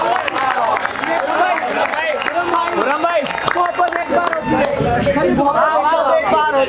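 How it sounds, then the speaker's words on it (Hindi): Mushaira audience in a crowded poetry gathering breaks into clapping and applause mixed with lively crowd chatter and murmuring voices, sustained and fairly loud throughout. "एक बार जोरदार तालियां बजाएं"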